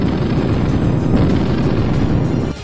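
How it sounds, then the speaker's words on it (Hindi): Indian Army artillery guns fire shells during a military exercise against a mock enemy, a loud sustained rumbling boom that drops off sharply at the end, with no voices. "भारतीय सेना ने नकली दुश्मन पर असली हमला किया और तोप से ताबड़तोड़ गोले बरसाए।"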